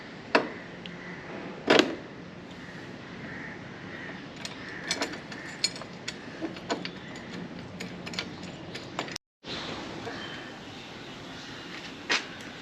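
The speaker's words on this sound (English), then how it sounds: "Now I will tighten this bolt with this wrench." A wrench tightens a bolt on a Kawasaki Ninja 300 grab rail, giving soft ratcheting ticks and metallic clicks at an irregular pace over quiet background hiss, with one brief dropout near the end.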